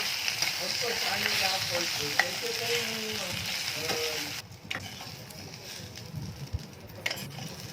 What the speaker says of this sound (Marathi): थोडस आपण येथे तेल टाकून घेतलेलं आहे तेलामध्ये थोडस आपण छान असं फ्राय करून घेऊया